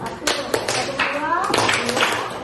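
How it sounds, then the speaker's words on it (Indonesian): Pupils in a classroom clap their hands together in short bursts at the close of a lesson, mixed with children's chatter and a teacher's voice. "Tepuk tangan untuk kita mengakhiri pembelajaran hari ini."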